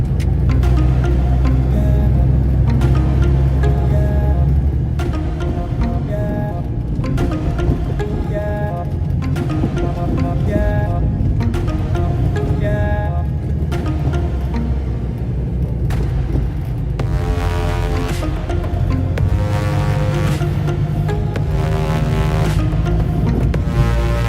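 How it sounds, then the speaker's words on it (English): A classic Ford RS Mexico cruises at about 70 mph on a motorway, a constant loud engine drone with road and wind rumble from the running gear, heard from inside the car without talk. "Cruising along at 70 mile an hour on a motorway today with the wind in your hair and the noise from the running gear."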